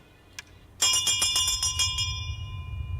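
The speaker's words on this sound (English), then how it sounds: "Look at the bell. Do you like it? You can also ring it." A bell in an Unreal Engine game gives one light tap, then rings out brightly with rapid repeated strikes that fade into a lingering metallic shimmer over a low background hum.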